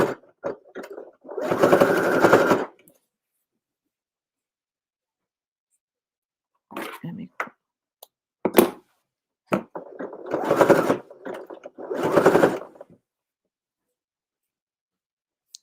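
A sewing machine stitches fabric scraps held flat, running in several separate bursts of steady mechanical whirring with silent pauses between them and no talk.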